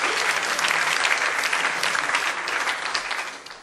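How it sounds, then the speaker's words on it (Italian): Audience applause fills Teatro Paisiello in Lecce during a music festival evening, a dense, steady wash of many hands clapping, loud and continuous, fading slightly toward the end with no voices over it. "a cui voglio dedicare un applauso"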